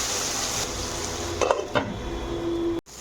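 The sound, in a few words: frying chopped tomato with onion shoots in pan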